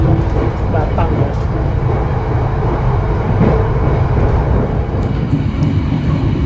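A passenger train running on its approach to Pekalongan station, heard from inside as a continuous loud low rumble with steady rattling, a voice speaking faintly underneath.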